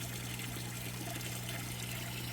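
Nitrate-rich water trickling down a tube from an aquarium tank, a continuous soft splashing trickle over a steady low pump hum, with no talking.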